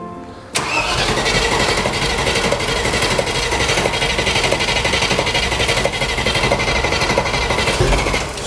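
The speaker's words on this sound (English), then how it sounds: "I'm going to give it a little crank, see what it does." Range Rover Classic V8 engine cranking after sitting unused for seven years, a loud steady churning starter rhythm running continuously without catching, close to the microphone.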